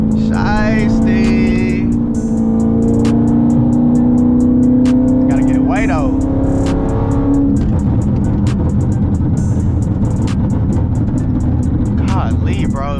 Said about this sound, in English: This car in track mode, bro.